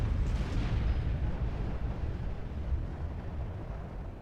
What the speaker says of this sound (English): The Kingdome just got totally razed by artillery.